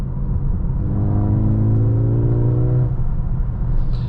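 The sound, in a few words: Mercedes-AMG GLA35 fake engine sound in Sport Plus mode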